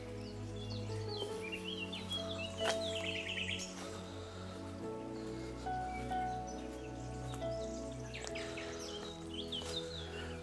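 Songbirds chirp and trill in countryside near Polop on the Costa Blanca, scattered calls over a steady low hum and faint rustling, moderately distant and without talk.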